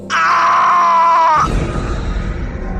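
A drawn-out, strained scream rises loud and close, holds for over a second, then breaks off abruptly into a low rumbling noise, set in a haunted building horror story.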